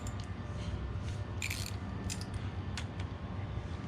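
An 8 mm wrench loosens the clutch cover bolts on a KLX351 motorcycle. A few sharp ratcheting clicks and metallic creaks stand out over a constant low rumble.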